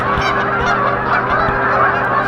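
Geese honk at sunset in a dense flock, their calls overlapping constantly and loudly from start to finish, with no talking.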